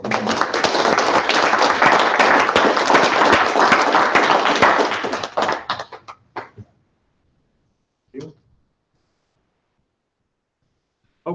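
Graduation audience applauding for Michael, a loud burst of steady clapping lasting several seconds before thinning out to scattered claps, followed by near silence with a couple of brief coughs or thuds.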